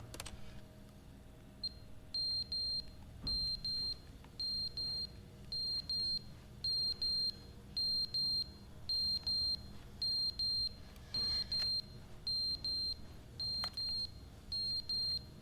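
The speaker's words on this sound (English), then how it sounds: "Oh, I don't like the alarm." An electronic alarm in The Stanley Parable: Ultra Deluxe beeps in paired high-pitched bursts, repeating steadily about once a second over a low background hum, clear and continuous throughout with no talking.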